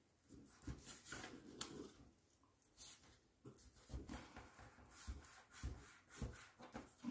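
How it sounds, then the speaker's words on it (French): Paper being folded and creased by hand along a freshly traced line, giving soft rubbing and crinkling strokes in an irregular rhythm, close and fairly quiet, with no talk. "on va plier le long du trait qu'on vient de tracer"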